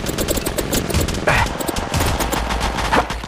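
Automatic gunfire in the mobile shooter Apex Legends Mobile: loud, rapid bursts of shots rattle continuously with barely a pause.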